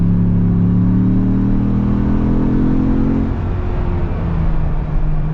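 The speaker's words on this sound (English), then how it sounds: "I will say this engine's very smooth. See if it's got the power though." Engine of a 2025 Ford Bronco Big Bend Sasquatch accelerating, a loud, steady droning hum from inside the cabin that climbs and then eases off near the end, with no talk.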